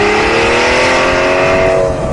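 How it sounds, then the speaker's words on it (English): Aston Martin V12 Vantage S sports car engine revving loudly and close, a strong rising mechanical tone that holds and then eases slightly near the end, with no voices. "Hear that engine?"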